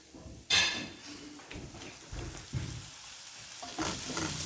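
Curry powder being stirred into a hot pan, with a loud sizzle bursting in at the start and then a steady frying hiss broken by several low scraping stirs. No one speaks.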